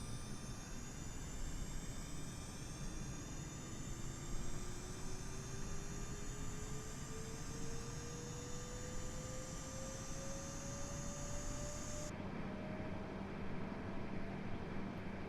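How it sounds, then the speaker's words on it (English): An Airbus A320neo auxiliary power unit spools up in Microsoft Flight Simulator, a steady turbine whine with a slowly rising tone over broadband roar, continuous and fairly loud, changing abruptly near the end. "APU is starting up."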